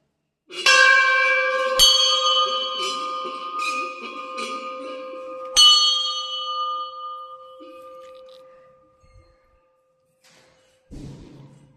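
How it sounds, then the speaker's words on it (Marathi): A metal temple bell at Ganpatipule during Ganesh Jayanti is struck several times in quick succession, each clang ringing loudly and close before decaying into a long fading hum, followed by a soft thud. "हा जाताना फक्त वाजवायची घंटी."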